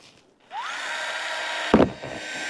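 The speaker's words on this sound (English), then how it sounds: "All I'm going to do is drill 2 holes in it." A power drill bores holes into a clear plastic box at an allotment: the motor whines up, holds a steady high drone for about a second, then gives a sharp clunk as the bit breaks through and the whine trails off.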